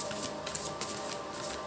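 A tarot card drawn from the deck makes a brief, soft papery riffle and slide close by, lasting under two seconds with a few light flicks and no talking over it.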